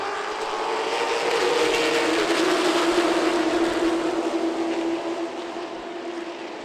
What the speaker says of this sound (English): but McDowell flexes the engine and brings all those horsepower to life